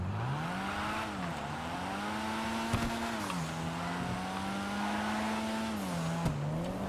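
A drift car's engine in GTA Online drones steadily at high revs, its pitch rising and dipping as it shifts, with a couple of brief knocks and no talking.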